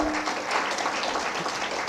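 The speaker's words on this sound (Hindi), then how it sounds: "सबको तालियां बजाएंगे आदि शंकराचार्य के" An audience claps together in honor of Adi Shankaracharya at a devotional gathering, a dense and fairly loud burst of hand claps that fills the whole moment with no talking.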